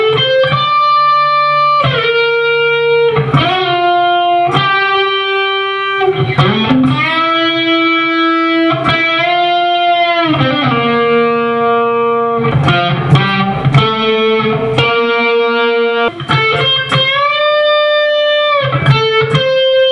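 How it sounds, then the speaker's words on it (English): Electric guitar with distortion and effects plays the guitar solo from a song at a slow tempo, sustained bent notes and arpeggiated phrases ringing loud and close with no talking. "So the whole solo slowly will sound like this."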